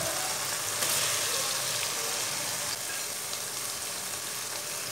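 Finely chopped tomatoes fry with ginger and garlic in a hot pan, a loud, steady, dense sizzle that fills the whole stretch without pause.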